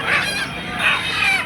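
Native chickens cluck and squawk at a traditional country-chicken market in Ranebennur, their loud, close, overlapping calls rising in two bursts.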